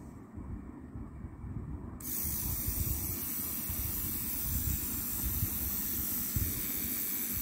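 A Sirona electric eyebrow and facial hair trimmer switched on and running, giving a steady close buzzing whir that gets louder partway through and then holds, with no talking.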